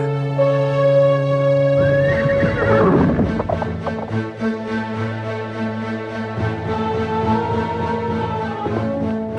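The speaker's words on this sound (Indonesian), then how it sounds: "Ayo kudaku, larilah dengan cepat." A horse neighs in a long, loud whinny that rises and falls against a steady tonal backdrop, followed by a continuous rumble of movement, with no talking.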